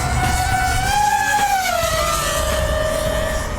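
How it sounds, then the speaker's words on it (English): An iFlight Chimera 7 PRO FPV drone sweeps past at speed, its loud motor whine climbing then dropping in pitch like a racing car as it passes close by and moves away, with no talking. "I flew this thing past myself for the first time and it sounded like a Formula car."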